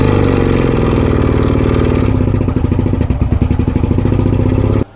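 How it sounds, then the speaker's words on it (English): A straight-piped Suzuki SV650 motorcycle engine cranks, catches and runs with a loud, raw, uneven rumble and clatter at close range for several seconds before cutting out abruptly. "Throw some gas in here, see if it'll fire up."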